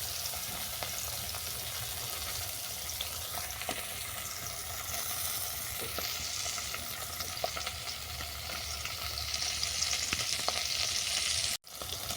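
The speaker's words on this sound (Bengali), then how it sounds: "তেলটা গরম হয়ে গেছে, এর মধ্যে মাছগুলো তুলে দিচ্ছি।" Small khoira fish sizzle steadily in hot oil in a pan, a dense, loud and even frying hiss that runs unbroken for the whole stretch apart from a very brief dropout near the end, with no voices.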